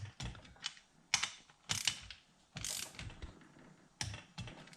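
Torque wrench working on KTM LC4 cylinder head bolts, giving a series of quiet, sharp ratcheting clicks and metallic snaps in irregular bursts, close by and fairly faint, with no talking.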